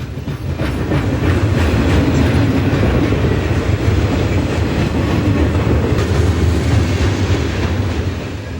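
A long Conrail freight train with helper locomotives at head and rear rumbles past close by on the Pittsburgh Line, its wheels clacking rhythmically over the rails in a steady, loud roar.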